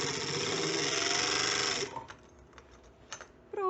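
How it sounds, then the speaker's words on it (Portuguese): A sewing machine stitches a lined bra-cup top with a fast, loud, continuous whir for about two seconds. The motor then stops, leaving faint handling clicks and a brief whir at the end. "Vou dar uma ajudada na costura para não fazer prega."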